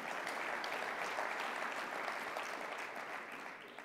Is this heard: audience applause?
yes